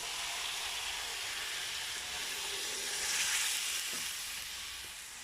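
Broth in a hot pan gives a continuous, moderately quiet hissing sizzle that swells slightly midway and then eases, with a couple of faint knocks and no speech.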